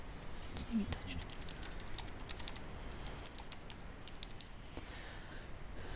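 Computer keyboard typing while entering data into a transport order form, a quiet scatter of light key clicks in irregular bursts over a low background hiss, with faint speech nearby.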